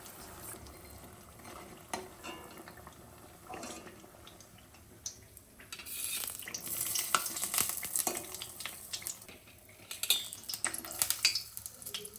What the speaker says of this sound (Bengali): এবার একটু বড়ি ভেজে নেব, গয়না বড়ি। সরিষার তেল দেব।